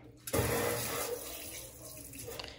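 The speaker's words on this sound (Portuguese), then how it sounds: "E tenho essa torneira gourmet também, ó." A gourmet kitchen faucet gushes into a sink, with a steady close rush of running water that starts abruptly after a brief pause and continues alone.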